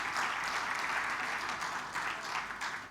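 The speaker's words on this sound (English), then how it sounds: "Please clap for them." An audience at a governance convention in Uganda applauds, a dense, even patter of clapping that holds steady for a few seconds at moderate distance.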